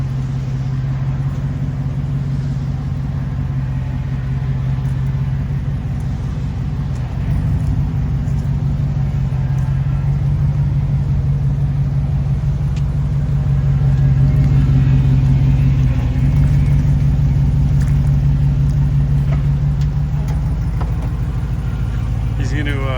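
A Hemi V8 swapped into a Jeep JK rumbles at idle with a freshly finished exhaust, a steady low drone while backing out, swelling slightly midway; voices talk faintly nearby.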